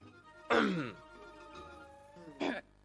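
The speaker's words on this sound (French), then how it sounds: "je pense que tu devrais soigner cette vilaine toux." A woman coughs harshly in two short bursts, the first stronger and the second fainter, each rough and throaty, close up with a quiet pause between them.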